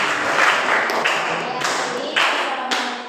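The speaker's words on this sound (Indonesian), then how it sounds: "Oke, tepuk tangan untuk kelompok 5." Classroom applause for a student group, a short burst of hand clapping from several people filling the room, steady and close throughout.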